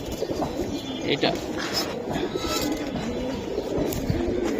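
A large khaki male Giribaz pigeon with feathered feet coos in low, soft murmurs, held under steady talk from a man nearby.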